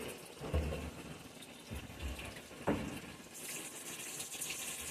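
Water runs steadily into a washing machine drum loaded with towels, a blanket and sheets, a continuous rushing fill with a few brief knocks and splashes, fairly close, no talk.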